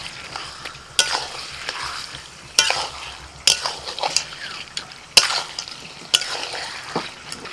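Ginger, garlic, cumin, pepper and dried chilli pastes sizzle and fry in a pan for a country chicken curry, with repeated sharp scrapes and clacks of a spatula stirring, no voice.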